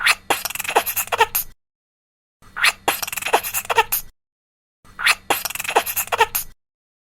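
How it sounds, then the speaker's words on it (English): A squirrel chatters in three separate bursts of rapid, scratchy chit-chit calls, each about a second and a half long with short pauses between, loud and close. "The squirrel says chit-chit."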